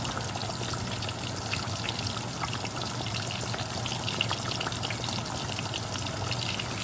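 Thai style pork chops fry in hot oil, a dense, steady crackling hiss that stays even and close for the whole stretch with no voices.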